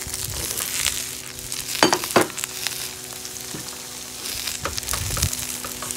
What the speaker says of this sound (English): We're going to fry those off.